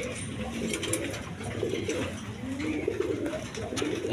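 A pair of colored gola pigeons of the gorra type, a big-crested male and a female, coo in soft, repeated low throaty rolls, close by, over steady background noise.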